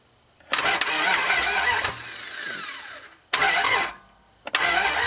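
A Dodge Charger engine, long seized and just hooked to a fuel pump with a full carburetor bowl, cranks and catches, runs roughly, dies, then restarts twice in loud close bursts.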